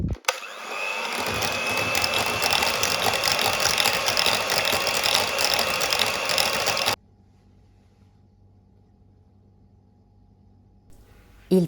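An electric mixer whips cream with powdered sugar, whirring steadily at high speed for several seconds, then cuts off, leaving a low quiet hum.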